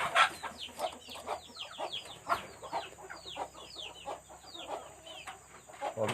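Free-range village chickens cluck and squawk continuously in a busy flock, with overlapping calls close by and a steady background of bird chatter.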